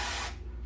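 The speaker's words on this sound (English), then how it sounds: "and then I do this like texturizing spray" Texturizing hair spray hisses from an aerosol can in one short, close burst of about a third of a second, then cuts off into quiet room tone.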